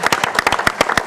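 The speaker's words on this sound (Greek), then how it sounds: "Έτσι, ένα χειροκρότημα, ρε παιδιά," A small audience at a Greek Asia Minor cultural association event claps for Nikos, a round of brisk, close, fairly loud handclaps in an uneven rhythm, with no voices over it.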